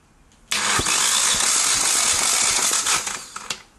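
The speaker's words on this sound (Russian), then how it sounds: "Видеозамеры компрессии двигателя Hyundai Solaris 2017 года" Cranking of a 2017 Hyundai Solaris 1.4-litre G4LC engine during a compression test: a sudden steady whirring starter drone with rhythmic compression pulses holds for about three seconds, then tapers off with a few clicks.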